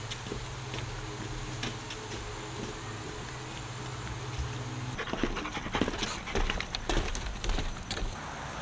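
Puppies at a large dog park pant rapidly and steadily up close, with faint whimpers and some rustling and outdoor background noise, and no one speaking.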